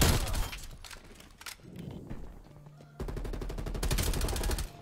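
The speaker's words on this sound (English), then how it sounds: "That guy's using a shotgun, that's scary." Call of Duty gunfire, likely a shotgun, comes as a loud, dense stream of rapid shots and booms, broken by a brief lull before a heavy, steady volley resumes.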